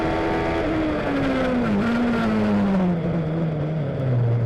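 An OMS race car climbs at speed on a hillclimb course, its loud engine holding a steady, strained drone whose pitch slowly falls as it moves away, with no other sounds over it.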